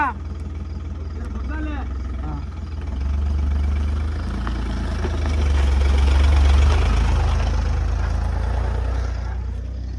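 Tractor engine idling heavily while pulling a stuck Bolero loaded with chillies: a deep, steady diesel rumble that swells louder midway, with people's voices heard over it near the start.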